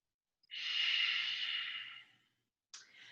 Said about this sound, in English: Take about 3 rounds of Ujjayi breath right here.